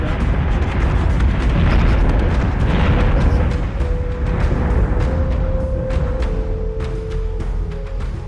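Missile explosions in the space combat video game Battlestar Galactica Deadlock: a sustained, loud rumbling roar of blasts with crackling bursts, plus a faint steady tone partway through.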